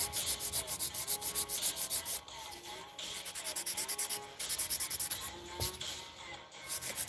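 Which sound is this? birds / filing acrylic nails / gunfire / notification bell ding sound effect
filing acrylic nails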